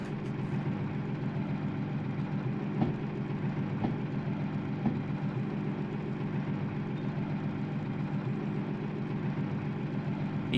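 Locomotive engine in the train game Derailed, a steady low idling drone that holds evenly without voices and has a few faint clicks scattered through it.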